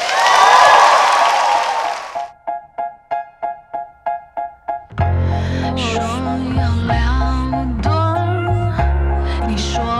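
Audience applause welcoming the singer on stage: a loud burst of clapping and crowd noise for about two seconds, then a rhythmic series of tones and music with no further clapping.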